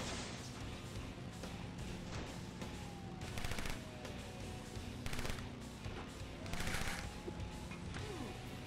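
Gunfire in the motorcycle combat game Road Redemption, repeated bursts of shots and crashes breaking out over a constant layer of engine and game noise, loud and chaotic, with no talking.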